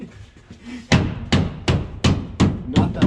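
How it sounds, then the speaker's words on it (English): A claw hammer strikes a nail six times in a steady rhythm during shop renovation work, each blow a sharp, close metallic knock following a quiet lead-in. "grab the claw hammer and hit it right here so that it'll go in"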